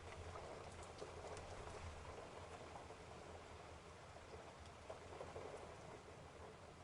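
Steady rain pours down with deep rolls of thunder through a storm, a dense, constant wash of falling water with no voices.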